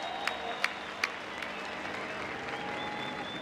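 Applause from a crowd at a Formula 1 Drag event for a competitor, fairly distant with a few distinct sharp claps over a steady background wash of crowd noise.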